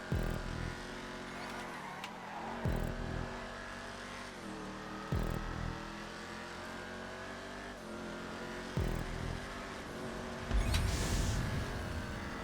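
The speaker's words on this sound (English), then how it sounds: "Love the sound of this car." A racing car engine in GTA 5 drones steadily during a stunt race, with sharp gear-shift dips every few seconds, then revs up with a burst of tire noise near the end; no talking.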